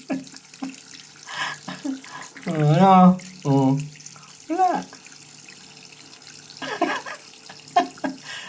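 Tap water runs into a kitchen sink where a small pet is being bathed, a steady low splash under intermittent close talk and exclamations.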